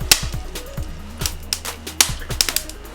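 Sharp crackles and pops from seasoned, dense wood burning in a brisket cooking fire, several irregular snaps over a low steady roar, fairly close, with no talking.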